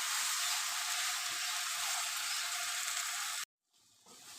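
Jute leaves and shrimp fry in a pan with a steady, bright sizzle held close and even for a few seconds before cutting off, after which a quieter hiss remains.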